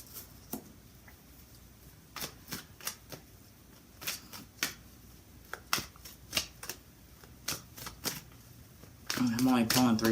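Tarot cards being shuffled and drawn during a psychic reading, heard as a run of soft, irregular papery flicks and riffles up close, ending in a brief louder rustling burst.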